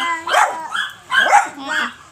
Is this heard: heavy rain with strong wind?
no